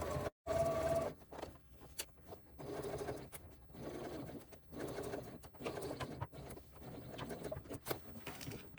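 A sewing machine top stitching around the curves of a crossbody bag front. It runs in steady bursts of rapid patter, pausing briefly between runs, with no voices.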